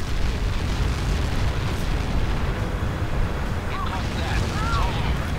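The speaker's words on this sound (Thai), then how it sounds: "โอ้โหโอ้โหระเบิดอะไรเยอะ" A barrage of explosions in the combat flight video game Ace Combat 7 forms a dense, continuous rumbling roar that holds loud and steady throughout.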